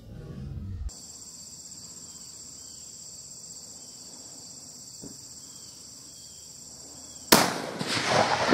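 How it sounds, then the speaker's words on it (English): A rifle fires once at a groundhog during a Pennsylvania hunt. Steady, loud cricket chirring fills the quiet field before a single sharp, loud shot near the end, followed by a rolling echo. "Ooh, you got him. Good shot, Jake."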